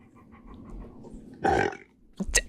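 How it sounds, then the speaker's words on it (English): A Golden Retriever lets out a short, loud burp-like grunt on command, then a second brief rougher burst follows after a quiet pause. "Can you give me a burp?"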